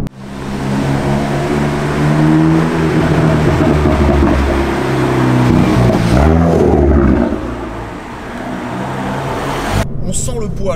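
Engine and exhaust of a Hyundai i30N Performance roaring while driving, loud and rising under acceleration before easing off, with a person talking over it.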